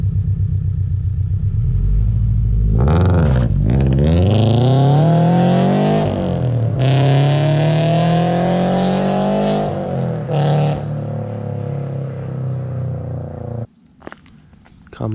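A Subaru BRZ's loud aftermarket exhaust revs up with a deep, raspy growl, holds a rising drone, then drops back to a burbling idle.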